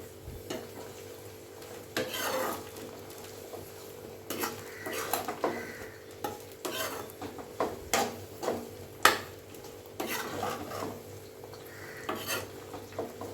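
Homemade hair oil stirred in a pan, with irregular scraping strokes of a utensil against the metal and occasional clinks over a low simmering sizzle.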